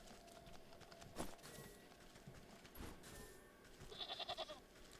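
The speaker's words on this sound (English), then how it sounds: "Hello, little goat." A goat in Wytchwood gives a short, quavering bleat near the end, faint and close, following a few soft hoof-like thuds and ambient game sounds.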